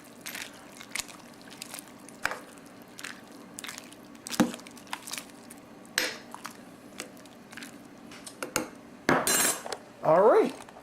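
A ladle stirs homemade vegetable beef soup with macaroni in a pot, giving soft scattered clinks and scrapes against the metal, with a louder clatter near the end and no talk.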